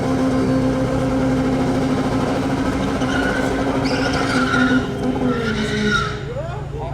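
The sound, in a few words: quarter-mile drag race, Honda versus VR6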